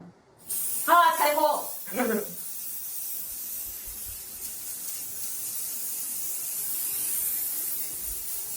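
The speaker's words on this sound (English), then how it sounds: "Now I'm gonna spray you purple. Spray my hair purple." A voice speaks briefly, then a long, steady spray of purple hair colour hisses close by for several seconds.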